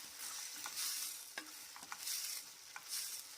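Tomatoes, salt and a teaspoon of cumin fry softly in a pan for mint tomato chutney, with a low steady sizzle and a few light scrapes of a spoon stirring, no voices.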